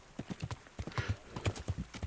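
Horse hooves clip-clopping in a steady run of sharp hits, with a brief whinny in the middle, in the medieval game Kingdom Come Deliverance.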